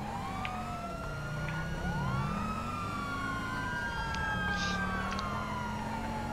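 A police siren in GTA Online wails continuously, its tones sweeping up and down in overlapping cycles over a steady background hum.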